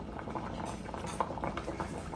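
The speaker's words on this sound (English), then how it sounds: "the first thing I'm going to do is boil my spaghetti according to the directions" Water boils steadily in a pot for cooking spaghetti, giving a soft, continuous bubbling rumble with small pops, quiet and close, with no voices.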